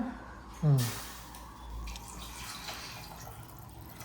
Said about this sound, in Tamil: தண்ணி ஊற்றிட்டா